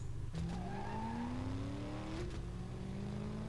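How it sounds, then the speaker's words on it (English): Engine of a slow-accelerating car in the Top Drives mobile racing game, a steady drone that climbs gradually in pitch after a gear change, with faint tire noise, continuous and fairly quiet. "That's a very slow accelerating car."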